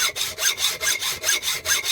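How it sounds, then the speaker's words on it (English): Hand sawing through hollow metal stock in a workshop, about eight steady back-and-forth rasping strokes in an even rhythm, close and moderately loud with no voices. "You can hear the tone of the sawing changing as you're getting down the material and through the hollow hole."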